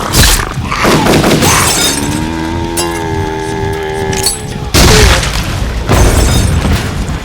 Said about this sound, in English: I smashed through the glass doors with my foot,